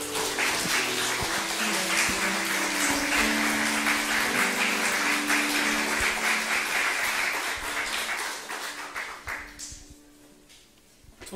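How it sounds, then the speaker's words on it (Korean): Sustained applause from a church congregation during a Sunday service, steady and dense for several seconds before fading out toward the end. "우리 목사님 받으실 때 감사의 박수 부탁드리겠습니다."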